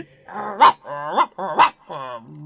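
A dog barks four times in close succession, each call a short, whiny yelp with a rising pitch, near and clear against a quiet background.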